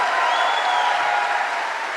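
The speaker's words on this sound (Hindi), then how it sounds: "मैं चाहूंगी इससे ज्यादा जोर से ताली बजा सकते हैं आप मेरे मेंटर के लिए" An audience claps steadily at a business gathering, honoring a mentor. The even, dense applause fills the room and holds at the same strength throughout.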